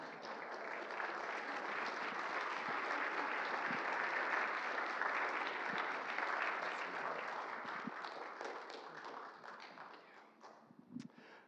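Sustained audience applause at a retirement celebration after performances, steady and full for most of the stretch before thinning out toward the end, with a few scattered claps left.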